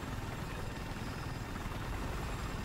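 A Battlefield 4 helicopter on PS4 gives a dense, steady rotor-and-engine roar, loud and continuous with little variation, and no talk over it.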